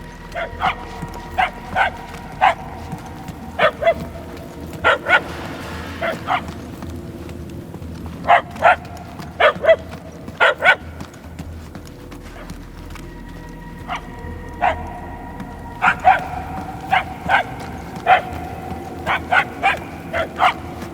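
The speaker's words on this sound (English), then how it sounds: "The barks are getting louder, at least." A small dog in the video game Guardians of the Galaxy barks repeatedly in short clustered bursts, moderately loud, over a low ambient background.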